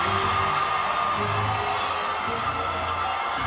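A home crowd cheers and whoops at a women's NCAA gymnastics championship meet in an arena, with a loud, sustained roar that stays dense and steady throughout.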